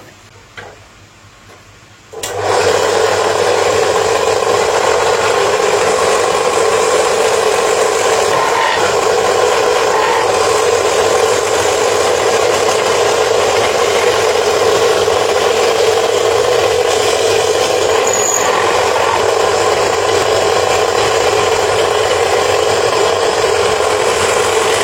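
An NRT-PRO 13mm bench drill is switched on at its top speed after a short quiet moment, then runs as a loud, steady motor whir with faint rattling throughout.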